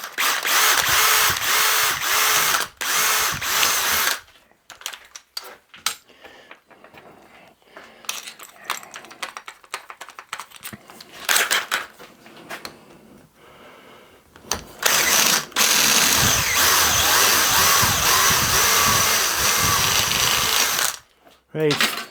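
A step drill bores into 15mm thin-wall copper plumbing pipe: loud, harsh power-drill whine and grinding in two long bursts, separated by a quieter stretch of clunks, rattles and handling.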